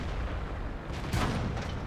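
Artillery fire in a tank battle game with a Super Pershing tank, a single muffled boom rising out of steady low engine rumble.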